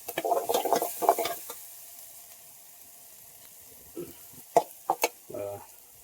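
Chili spice masala hitting hot tempering oil in a pan on a village wood-fired stove, giving short bursts of sizzling and stirring with quiet gaps between them, heard close.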